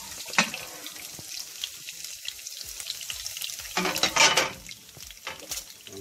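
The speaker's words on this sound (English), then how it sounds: "So I'm gonna add my okra, Irish potato," Okra, Irish potato, carrot and pumpkin drop into a hot pot of sizzling ginger-seasoned oil, giving a steady close-up fry hiss with a sharper burst of sizzle and clatter as pieces land; no one speaks.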